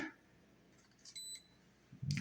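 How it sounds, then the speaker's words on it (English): A drone beeps during compass calibration: a short pair of high electronic tones in the middle, followed by a brief clunk of handling at the end, all fairly quiet. "and it'll beep again"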